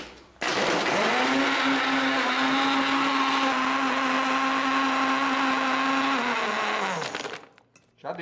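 A kitchen blender runs continuously, whirring loudly as it blends strawberries with plenty of ice into a shake, a steady motor drone lasting several seconds before cutting off.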